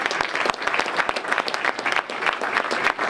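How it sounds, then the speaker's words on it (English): A crowd at a high school signing day ceremony claps for the parents of student athletes, brisk dense applause with sharp individual claps standing out throughout. "So let's give these parents a round of applause."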